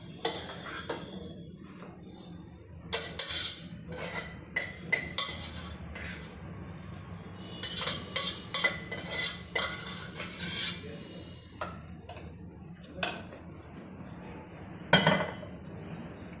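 Ridge gourd pieces are mixed into yogurt in a bowl for a pachadi, bringing irregular bursts of a spoon clinking and scraping against the bowl between quieter soft, wet stirring, close up and without talk.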